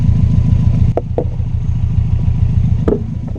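A Legacy GTT car with its exhaust pulled out from the catalytic converter idles with a loud, steady, raspy low rumble, close by, with a few short sharp clicks over it.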